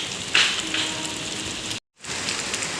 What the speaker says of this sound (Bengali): খুব জোরে বৃষ্টিটা শুরু হলো